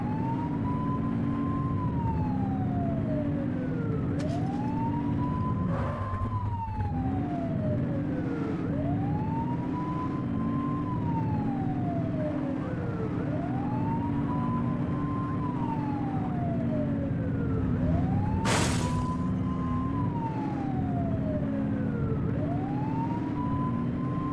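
Police car siren from The Precinct video game wailing continuously, loud repeated rising-and-falling cycles over a steady engine drone, with a few sharp clanks in between and no talking.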